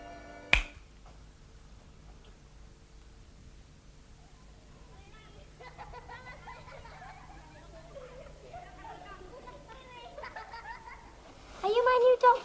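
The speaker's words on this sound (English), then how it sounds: "When I snap my fingers, you will wake up" A single sharp finger snap rings out near the start, followed by quiet room tone, then faint distant voices and chatter building toward the end.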